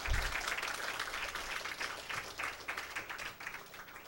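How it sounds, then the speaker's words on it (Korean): An audience at a Won Buddhism lecture gives a round of applause, faint and distant, the scattered claps holding steady for a few seconds before tapering off. "힘찬 박수로"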